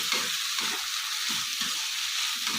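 Cluster beans fry in hot oil while being stirred, giving a steady close sizzle with a dull scrape of the spoon about every half second.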